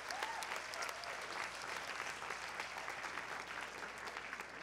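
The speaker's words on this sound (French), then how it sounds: "une main d'applaudissement pour ce centre" A crowd claps continuously at a francophone arts centre in Ontario, a dense, even patter of many hands filling the whole stretch without pause.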